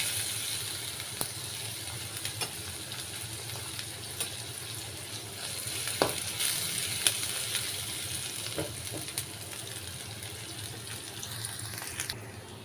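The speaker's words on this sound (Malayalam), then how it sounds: "ചെറിയ ഉള്ളി വെളിച്ചെണ്ണയിൽ മൂപ്പിച്ചെടുക്കാം" Small shallots frying in coconut oil for a drumstick curry, with a soft continuous sizzle and scattered quiet clicks and stirs, fairly faint throughout.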